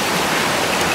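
A forest river flows in a dense, steady rush of water, loud and close, with no voices.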